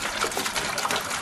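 Distilled water trickling and splashing as it is poured for mixing wheat paste, a steady close-up stream of liquid with no speech.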